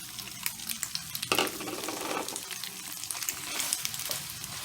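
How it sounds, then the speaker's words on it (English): Shrimp and their juices tipped into a hot pan for Cajun shrimp pasta, setting off a sudden burst of wet sizzling followed by stirring and steady frying crackle, close and unvoiced. "just dump the bowl of your shrimp in, juices and all"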